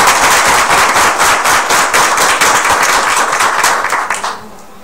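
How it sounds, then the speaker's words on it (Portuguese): An audience at a talk on autism and inclusive education bursts into loud, dense applause, a fast crackling wash of many hands that runs steadily before dropping off abruptly near the end. "pedir palmas para elas"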